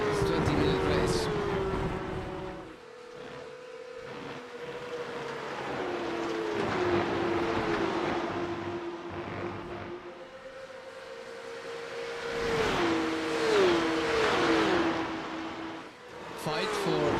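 Porsche Carrera Cup race cars at Road America, engines droning and shifting pitch as they pass, rising and fading repeatedly over a long stretch under steady commentary.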